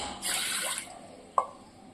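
Water poured onto washed mung beans makes a short splashy gush, followed by a single sharp drip or plop, quiet and close.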